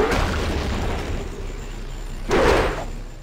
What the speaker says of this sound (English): That explosion of goo is probably not a good thing.